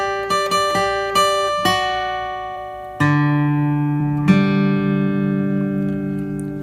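Electric guitar lead line from a song, a handful of plucked notes ringing out with long sustain, played alone and up close with no talking.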